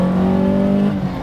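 A Fiat 131 Abarth rally car engine holds a loud, steady, throaty drone from close by, with a rich harmonic growl that eases slightly toward the end.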